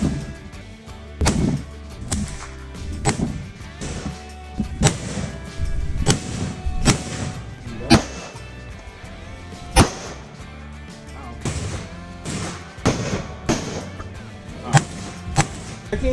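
A small .45 handgun fires outdoors on a farm, with roughly a dozen sharp, loud reports spaced irregularly a second or two apart, each trailing a brief echo.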